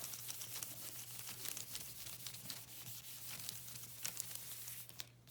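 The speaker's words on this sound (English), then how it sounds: "You can erase." An eraser rubs across writing on a paper page in a classroom, making quiet, scratchy back-and-forth strokes. The faint rubbing repeats steadily with no voices.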